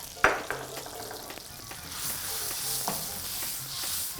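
Dried chili and prawn fat frying in grapeseed oil for XO sauce, a steady close sizzle that starts with a sharp clatter as the chili drops into the pan, then a continuous crackling fry with faint stirring.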